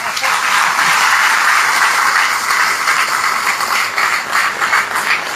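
An audience applauds steadily and loudly, a dense continuous wash of many hands clapping that holds for several seconds.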